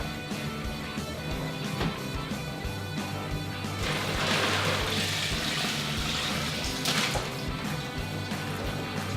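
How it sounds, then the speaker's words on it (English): Brine poured from a full pot into a brining bag over a turkey sitting in a cooler, a steady close splashing gush that swells in the middle and runs continuously for several seconds. "I'm just gonna take this entire pot and pour it into the bag on top of the turkey."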